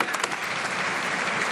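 Members of parliament applaud in the House of Commons chamber, a dense, even burst of clapping from many hands across the whole short stretch.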